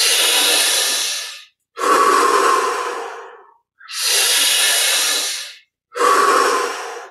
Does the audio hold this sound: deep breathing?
yes